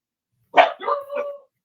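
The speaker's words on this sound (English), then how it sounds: "sorry, my dogs are storming out right now." A dog gives a close, loud bark that breaks into a couple of shorter yelping barks, lasting under a second in an otherwise quiet room.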